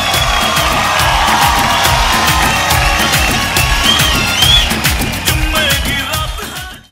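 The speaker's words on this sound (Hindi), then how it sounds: "इन तीनों के लिए जोरदार तालियां।" An audience at a stage event cheers and whoops, with some clapping, over a steady thumping music beat. The noise stays loud and lively, then fades away at the end.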